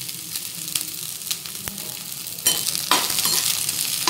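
Shredded cabbage and carrot pieces fry for gobi manchurian in a steady, close sizzle with a few stirring taps. The hiss swells noticeably louder partway through, with no talking.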